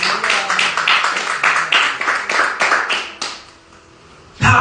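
A church congregation claps together in a steady rhythmic beat for a few seconds, the clapping loud and close, then fades briefly before a sharp burst of sound at the end.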